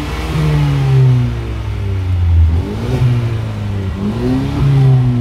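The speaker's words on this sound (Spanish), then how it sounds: "A ver, lo va a acelerar el dueño." A car engine is revved by its owner, rising and falling in several loud, close revs over a steady running drone.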